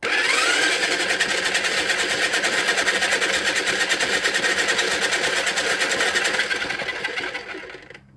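A paint-pour spinner whirs up for a ribbon pour, a loud steady high-pitched motor hum with a rapid pulsing rattle that holds, then winds down and fades at the end.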